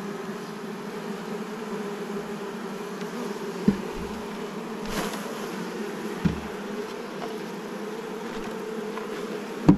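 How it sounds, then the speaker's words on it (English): Honeybees buzz steadily around a Langstroth hive box during a transfer to a top bar hive, a constant close drone with a few faint knocks and taps. "You can see the bees festooning in there"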